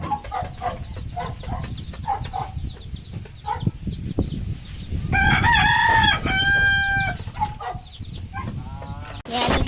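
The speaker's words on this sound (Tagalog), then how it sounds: "Yung mga pato yan, tapos yung mga manok." Roosters crow and hens cluck around a backyard farm where ducks are also kept, with several loud crows and a run of clucks over a rustling, busy outdoor background.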